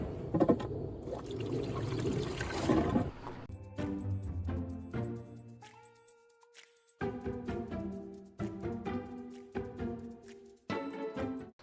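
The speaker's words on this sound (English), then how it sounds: "and plonk some water in." Water poured into a mini sub-irrigation channel, starting with a splashing gush, then trickling and gurgling in short, uneven bursts with brief pauses, close and fairly quiet.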